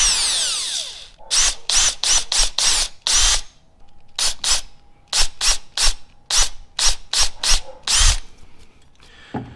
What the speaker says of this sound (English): So we have a drill on slow settings.